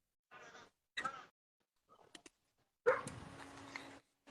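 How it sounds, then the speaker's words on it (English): A dog gives short separate barks and yips with whimpering between them, moderately near, with quiet gaps in a garden setting. "The dog's going a bit mental because there's loads of combine harvesting in the house."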